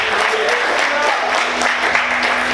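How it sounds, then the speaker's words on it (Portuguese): Church congregation clapping hard in praise during a Portuguese-language sermon, a dense, steady wash of applause filling the whole stretch with some voices mixed in. "Aplaude o Senhor bem forte."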